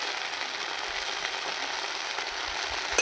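Ridge gourd peel paste stirred in hot oil in a pan with salt and a little sugar, giving a steady, even sizzle with a faint scrape near the end, no talking.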